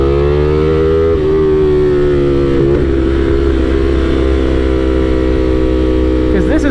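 A loud, steady engine drone with a strong low hum and sustained harmonic whine, shifting slightly in pitch as if revved, close and continuous.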